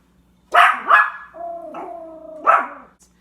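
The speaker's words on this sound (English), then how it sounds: "Don't you start barking" A dog nearby gives two sharp barks, then a drawn-out howling whine, then another bark, with quiet around it.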